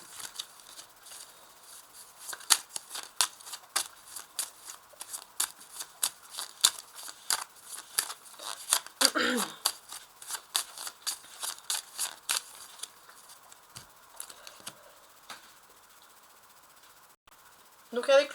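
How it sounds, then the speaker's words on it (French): A deck of major arcana tarot cards is cut and shuffled, producing a long run of quick, dry, papery flicks and riffles, close and fairly faint. "je vais faire une découpe avec ce tarot d'arcane majeur"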